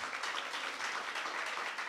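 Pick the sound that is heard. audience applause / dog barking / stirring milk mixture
audience applause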